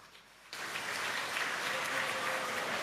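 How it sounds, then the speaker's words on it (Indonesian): A congregation at a 2025 Mass with seventeen bishops at Stella Maris Pluit bursts into lively applause after a brief quiet moment, then keeps up a dense, steady clapping wash that fills the church. "tepuk tangan meriah"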